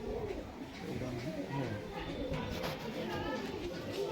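Punjabi Malbai pigeons cooing nearby in soft, repeated low throaty coos, while people talk over them.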